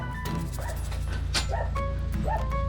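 Two dogs outdoors give repeated short yips and whimpering barks, clustered in quick bursts over a constant low rumble of background noise.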